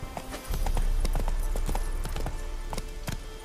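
Roach the horse gallops in The Witcher 3, producing rapid rhythmic hoof clip-clops that are close and steady over a low rumble, with no talking.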